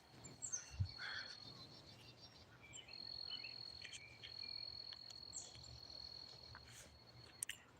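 A cricket sings outdoors with a thin, high, sustained chirring that runs through most of the stretch, soft and steady, while scattered bird chirps sound faintly in the background.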